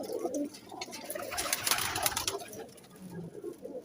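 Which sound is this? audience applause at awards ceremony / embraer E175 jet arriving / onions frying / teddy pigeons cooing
teddy pigeons cooing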